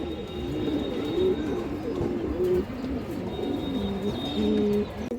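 A pair of rare old-pattern pigeons coo repeatedly in soft, low, rolling calls close by, over a busy background hum.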